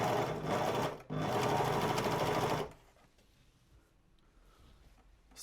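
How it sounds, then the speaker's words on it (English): An overlocker stitches along the edge of a denim workwear jacket pocket, running fast and loud for about two and a half seconds with a brief break, then stopping, leaving quiet room noise. "I will overlock the edges of the pocket as well"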